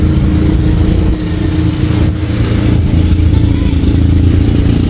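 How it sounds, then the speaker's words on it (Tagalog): A motorcycle rumbles past on a street, its steady low engine drone loud and continuous through the whole moment, with a voice talking over it. "Ayun, minadaang motor oh."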